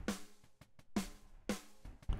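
Snare drum soloed on a snare bus in a rock mix, struck three times at an even pace, each hit a loud crack with a short ringing tail and faint bleed between.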